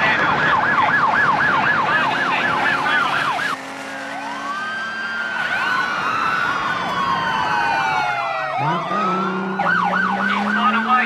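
Wailing ambulance sirens sweep up and down over road traffic, with several overlapping siren tones rising and falling, loud and close, for the whole stretch.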